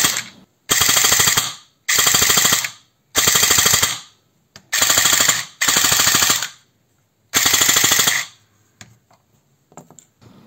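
SRC MP40 airsoft gun firing full-auto bursts, seven rapid buzzing volleys of about a second each with short gaps, loud and close with a mechanical rattle, then quiet handling clicks.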